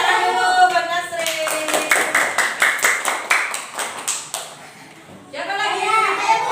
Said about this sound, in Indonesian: Tepuk tangan dulu buat Nasri.